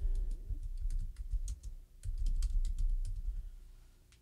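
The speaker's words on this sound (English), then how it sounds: "So in this Search Plugins bar, I'm going to type in" Rapid clicking of computer keyboard keys typing a plugin name into a WordPress search bar, a quick irregular run of light taps with a short pause midway, close and alone.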